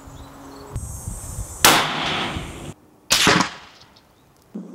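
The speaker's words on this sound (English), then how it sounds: "Now we're ready to take our second shot." Two sharp rifle shots ring out outdoors at a shooting range while a Meopta scope is being sighted in, each with a loud crack followed by a brief decaying echo, with no voices.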